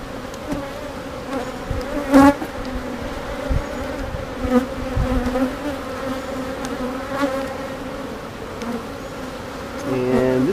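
Honeybees swarm and buzz continuously around an opened hive during an inspection, a dense, steady drone with individual bees zipping close past the microphone.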